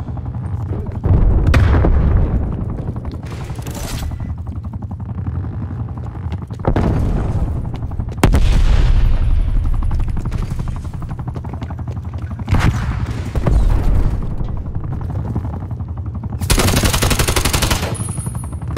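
Heavy gunfire in Call of Duty Black Ops Cold War multiplayer, with bursts of automatic fire and booming grenade blasts recurring every few seconds, loud and close throughout.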